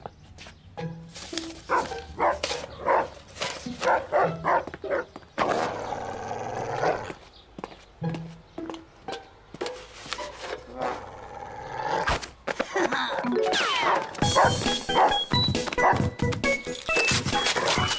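A cartoon dog barks in short, sharp bursts and yips in a French animated series. The barks are loud and near, and they mix with other lively cartoon sound effects, with no clear talking.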